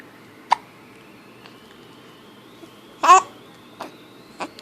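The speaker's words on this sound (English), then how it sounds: "Her got hiccups." A young child hiccuping, a few short sharp catches spaced a second or so apart in a quiet room, one louder than the rest, with faint babbling.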